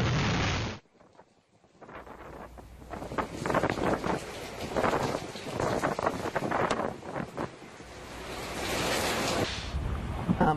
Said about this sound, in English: This big hurricane is a potentially catastrophic Category 5 packing 185-mile-per-hour winds, and even the noise those winds make is frightening.